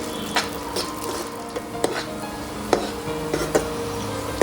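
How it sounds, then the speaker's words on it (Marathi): Dry fruits roast in ghee in a pan for carrot halwa, with a soft steady sizzle and scattered sharp clinks and scrapes from a spoon stirring against the pan. "आता ते तुपावर आपण छान खमंग भाजून घेऊया."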